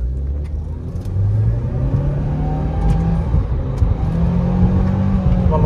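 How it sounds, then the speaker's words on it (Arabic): A Chevrolet Camaro accelerates hard, its engine note climbing through one gear, dipping briefly at a shift, then rising again, loud and close from inside the car with no talk. "هسه راح اشوف تسارعها"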